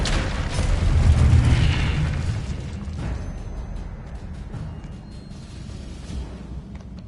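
In the video game Hogwarts Legacy, spell blasts land as a loud, deep booming impact up front, then a long rumbling decay with scattered crackles under it. No one speaks.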